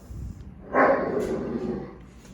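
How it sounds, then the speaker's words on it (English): Dogs playing in a yard right after eating: a brief burst of barking and yipping lands near the middle, fairly close, then trails into softer whimpers over a low background rumble. "The dogs just ate, and they always want to play after they eat."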